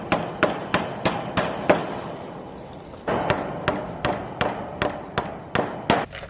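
Leftover electrical staples are hammered in with a quick series of sharp, close metal-on-wood strikes, about a dozen blows in an uneven rhythm with a short pause partway through.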